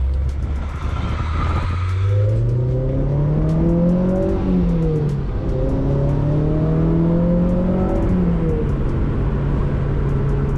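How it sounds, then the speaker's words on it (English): A car engine starts up and pulls away, rising through the gears in repeated upshifts with steady, fairly loud acceleration. It is heard alone, with no talking. "So let's go for a quick drive."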